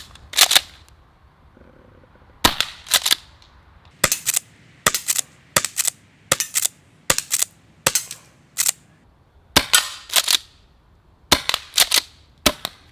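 An M870 Breacher airsoft shotgun fires a string of sharp, close, snappy shots, each followed by clacking pump action, in irregular bursts over several seconds.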